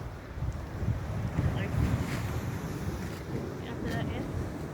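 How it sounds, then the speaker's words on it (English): Big ocean waves roll in at a beachfront near Little Bay, Negril, Jamaica, as a continuous rushing surf mixed with gusty wind buffeting the microphone. "take a look at your waves, big waves coming in"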